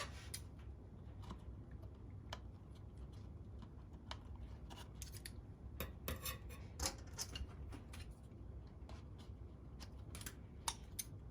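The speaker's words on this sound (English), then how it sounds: "so we can trim this with the scissors" Faint, scattered snips and clicks of scissors trimming paper, irregular and close, over a quiet low background hum.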